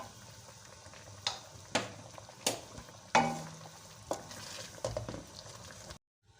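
Chicken white karahi is stirred and mixed in a pan with a low simmering hiss and several distinct spoon clanks and scrapes at uneven intervals, ending in sudden silence.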